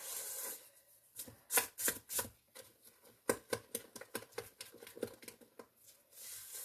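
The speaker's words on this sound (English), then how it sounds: "I'm going to stir this with my scraper" A plastic scraper stirs a thick sugar mixture for a strawberry lasagna dessert, giving a series of irregular scraping and tapping strokes, close and fairly quiet, with no talk.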